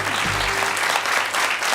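Studio audience applauding a contestant on a quiz show, steady dense clapping from a crowd at moderate loudness, with a brief low tone underneath early on.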